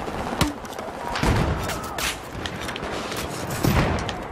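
Weapons fire in the online multiplayer game Battlefield 4: scattered sharp shots and thuds, moderately loud, over a busy background of battle noise.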